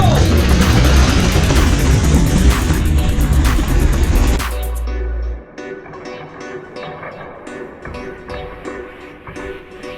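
Hot Wheels die-cast toy cars including a Nissan Skyline 2000 GT and Lamborghini Reventon Roadster race down a plastic track, a loud dense rattling rush that cuts off abruptly, followed by quieter scattered clicks and taps.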